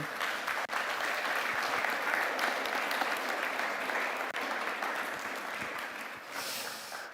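A church congregation at a Sunday morning service claps and cheers steadily for two new members, a dense, even wash of applause that holds for several seconds before tapering slightly at the end.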